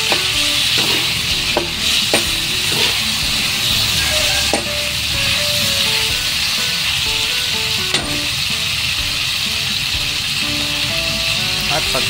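Chicken liver frying with bitter melon in a pan, a constant sizzle broken by scraping, knocking stirs at irregular intervals, with a soft melodic tone running underneath.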